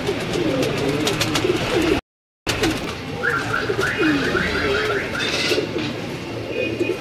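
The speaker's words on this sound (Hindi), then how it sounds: "बहुत शानदार कबूतर है जी" A fancy pigeon coos on a rooftop in Lahore, its low rolling calls repeating through the clip, close and fairly loud, broken by a brief dropout, with someone talking nearby.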